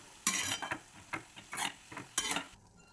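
Puffed amaranth and jaggery being stirred in a pan for a fasting sheera: a run of close, bright scraping strokes of a spoon against the metal, several in quick succession with short gaps between them.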